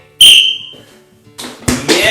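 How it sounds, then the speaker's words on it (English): A sharp, shrill whistle blast sounds once near the start, followed by brief scuffing noises and bursts of outdoor activity. "Remember, I'm going to blow my whistle."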